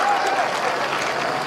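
A golf gallery at the 18th hole of the LPGA Sunrise Taiwan Championship final round cheers and applauds in a dense, sustained roar of clapping.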